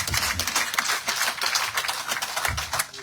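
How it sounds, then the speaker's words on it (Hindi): Dense, steady applause from a crowd at a BJP political gathering in Jammu, a continuous wash of many hands clapping that carries on for the whole span with small swells, no voice over it. "जोरदार तालियां हम।"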